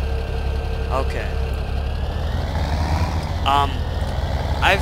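Front loader tractor engine in Farming Simulator, a steady low idle rumble throughout, with someone talking over it.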